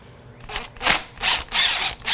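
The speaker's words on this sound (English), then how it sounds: "I use power tools though" A power tool spins fairing bolts out of a Honda CBR1000rr motorcycle, giving about four short, loud whirring and ratcheting bursts close by, separated by brief pauses.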